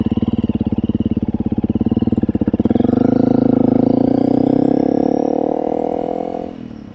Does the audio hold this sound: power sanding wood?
no